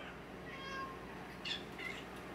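A cat gives a couple of faint, short meows against steady indoor background hum, with no talking over it.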